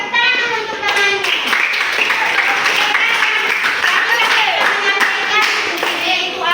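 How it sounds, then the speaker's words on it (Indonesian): Classroom of children clapping together for a classmate who has just read aloud, a dense burst of applause lasting throughout, close and loud, with a few young voices calling out under it. "tepuk tangan untuk temannya."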